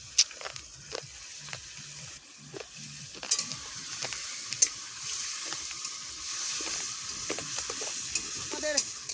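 A village-style fish curry with green chili and potato cooks in hot oil, giving a fairly quiet sizzle with frequent scraping stirs and sharp spoon clicks against the pot.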